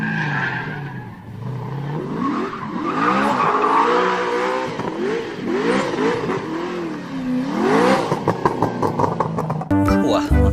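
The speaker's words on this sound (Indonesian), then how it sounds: "Di sini ada mobil balap." A toy race car plays looping engine-revving and tire-squeal effects for most of the clip, loud and close, ending in a burst of electronic tones.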